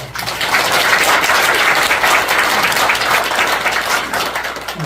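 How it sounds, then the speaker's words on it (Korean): A church congregation applauds at a thanksgiving service for a newly planted church, loud, dense and sustained clapping filling the whole stretch without a break. "우리 축하합니다. 박수 한번."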